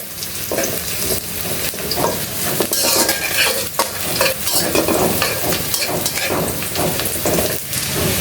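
Onions frying in a pan give a loud, dense crackling sizzle like heavy rain, with frequent close stirring scrapes throughout and no voices.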